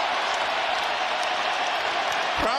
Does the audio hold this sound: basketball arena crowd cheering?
yes